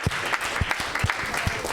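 Church congregation clapping in praise during a worship service, steady dense applause with rhythmic accented beats throughout.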